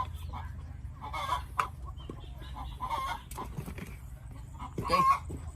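Layer hens on a farm cluck and murmur at moderate distance over a low background rumble, with a louder squawk near the end and no talk.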